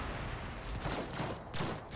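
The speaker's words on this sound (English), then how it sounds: "That melta gun is pretty awesome" A melta gun fires in the Rogue Trader tabletop-style video game, a dense, roaring blast of sustained crackling energy that swells twice over two seconds, loud and close.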